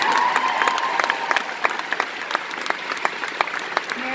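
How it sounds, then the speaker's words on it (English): Conference audience clapping in a round of applause, a dense crowd of hands at steady volume with sharp individual claps standing out, lasting the whole stretch. "Can you give her a round of applause?"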